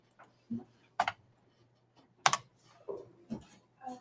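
Several separate, sharp clicks and taps on a computer keyboard and mouse at close range, spaced irregularly with quiet gaps between them over a faint steady hum.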